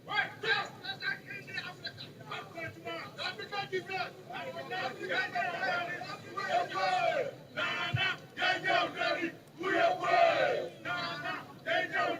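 A large crowd at a live public event in Ghana greets the President with loud, sustained cheering and shouting that swells and falls over several seconds.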